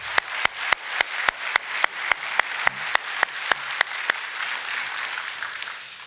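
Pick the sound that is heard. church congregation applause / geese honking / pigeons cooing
church congregation applause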